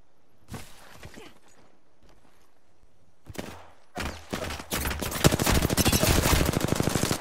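Rapid automatic gunfire strikes the player in a console shooter game, first in short scattered bursts and then building into a loud, sustained rattling volley toward the end.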